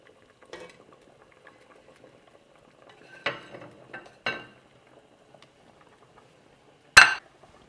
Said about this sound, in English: we're going to add this meat back into the stew.